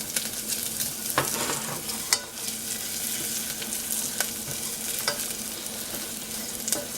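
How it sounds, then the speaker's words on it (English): Garlic and onions sautéing in a pan with a pinch of oregano, a continuous close sizzle broken by sharp scrapes and clicks of a utensil stirring, with no talking. "Sauteing my garlic, onions, and I'm going to add a little bit of oregano"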